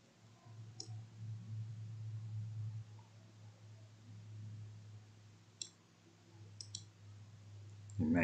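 A computer mouse clicks several times, sharp and close, over a low steady hum while someone talks quietly.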